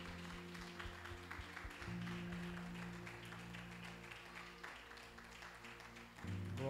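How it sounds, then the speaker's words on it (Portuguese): A church congregation at a Sunday communion service claps together, a soft, steady patter of hands under sustained organ or keyboard chords, fairly faint throughout. "Você pode dar uma salva de palmas para o nosso Deus?"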